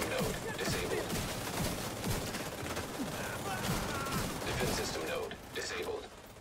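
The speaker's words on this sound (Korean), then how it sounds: "기관포 발사." Rapid autocannon fire during a raid in Tom Clancy's The Division 2, a dense continuous burst of shots with quieter game sounds and faint voice chat underneath.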